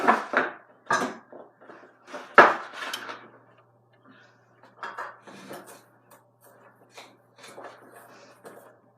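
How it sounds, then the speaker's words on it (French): Milk being mixed into a homemade spread in a bowl, a spoon or whisk clinking and scraping against the bowl in irregular bursts, close and clear, with no one talking. "Alors maintenant, il y en a juste à bien mélanger."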